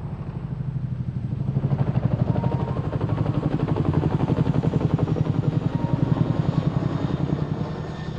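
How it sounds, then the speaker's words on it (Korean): A UH-60 Black Hawk army helicopter thunders nearby, its rotor blades beating in a fast, even pulse that stays loud and constant from start to finish, with no talking. "블랙호크로 UH-60 헬기를 운용하던 육군 항공단이었습니다"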